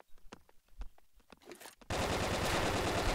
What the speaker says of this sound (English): I'm using a submachine gun.